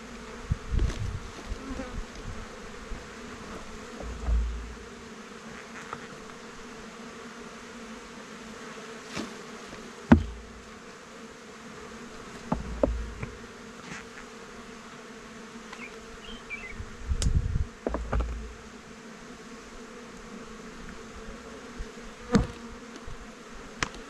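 Honeybees buzzing steadily around a beehive in December, a continuous droning hum with occasional louder passes as individual bees fly close, plus a few faint knocks and rustles, with no talking.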